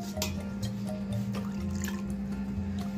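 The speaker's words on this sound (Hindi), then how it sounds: "पानी डाल के इसका घोल तैयार कर लेंगे" Water poured into cornflour and powdered sugar to mix a thin batter for falooda, a steady close trickle and splash over a low hum throughout, with no talking.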